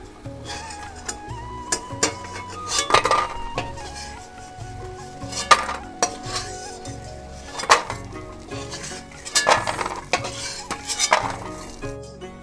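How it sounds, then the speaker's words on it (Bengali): Sun-dried lentil dumplings (bori) fry in leftover fish-frying oil in a pan, heard mostly as sharp, irregular clinks of a metal spatula stirring against the pan over a faint sizzle. "মাছ ভাজার ওই তেলেই এবার আমি বড়িগুলো একটু ভেজে তুলে নেব"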